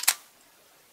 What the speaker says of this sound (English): The shutter release is a little different. There's a little bit of a delay in there.